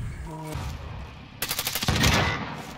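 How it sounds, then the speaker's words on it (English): A sniper rifle shot in the Call of Duty Warzone battle royale video game, a sharp loud crack with rapid rattling impacts after a brief voice, ending in a noisy burst. "Oh, I just got sniped."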